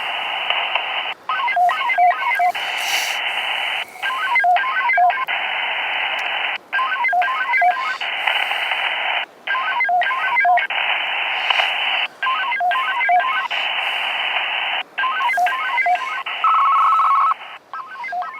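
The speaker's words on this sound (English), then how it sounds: "I have my monitor on so you can hear me transmitting" Bursts of steady electronic tones from a radio transmitter, chopped into repeating patterned pulses with brief gaps, loud and continuous for a long stretch.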